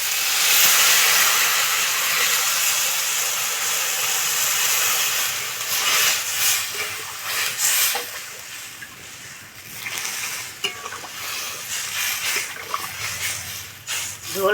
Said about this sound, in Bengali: ঝোল ভালো করে ফুটিয়ে নেব।